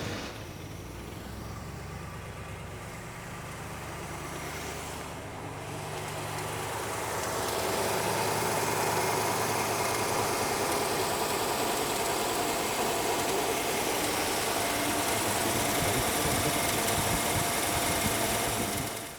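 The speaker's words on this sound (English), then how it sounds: "And then we'll start the engine and it will self-bleed." A Mercedes-Benz 600 engine runs, driving its single-cylinder hydraulic pump, a steady mechanical whir that swells louder after a few seconds and then holds a rough, buzzing hum to the end.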